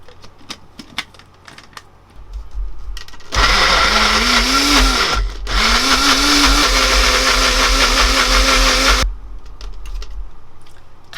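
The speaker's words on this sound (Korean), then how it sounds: "갈아줄게요." A blender grinds cucumber, broccoli and a splash of milk, a loud whirring motor roar that starts abruptly, dips briefly as the pitch drops, then surges again before cutting off, with quieter kitchen clatter before and after.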